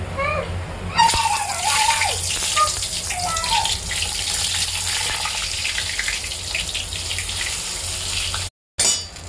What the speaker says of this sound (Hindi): गर्म हो चुका है हमारा, बैगन डाल देते हैं।